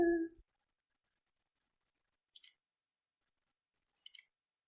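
Two faint, sharp computer mouse clicks land a couple of seconds apart in a quiet room, each a crisp single tap.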